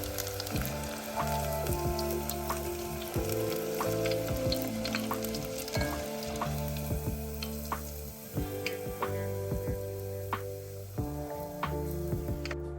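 Onion rings frying in hot oil make a steady, close bubbling sizzle with scattered pops and crackles throughout, alone with no voices.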